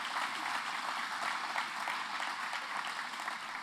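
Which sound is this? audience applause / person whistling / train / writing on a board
audience applause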